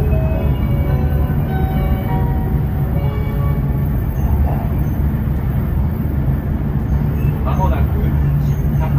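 Interior of a Shinkansen bullet train running between Toyama and Shin-Takaoka stations, a loud continuous low rumble and rolling roar heard from inside the car, with faint passing noises and no clear speech.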